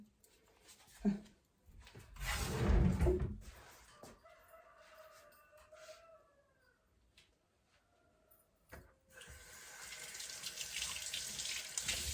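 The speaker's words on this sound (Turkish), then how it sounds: "ellerimi bir yıkayayım" Hands are washed under a running kitchen tap while preparing rose börek, with water splashing loudly for a few seconds, then a quieter steady flow that grows again near the end; a rooster crows faintly in the background.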